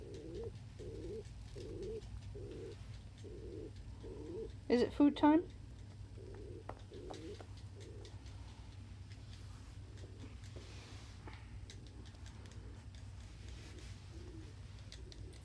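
A pet pigeon coos in a steady, regular series of soft low notes, close by indoors, with a brief louder flurry partway through and a person speaking over it.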